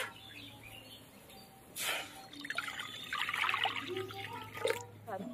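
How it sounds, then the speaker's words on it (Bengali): Water trickling and pouring into a wok in a home kitchen, a soft uneven splash rising and falling beneath a faint low hum, with a voice talking briefly. "কড়াইতে দিয়ে দেবো জল।"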